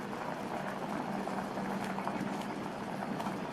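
Milk boiling in a pot with kozhukattai rice dumplings, a steady dense bubbling and simmering hiss, close and continuous with no talk.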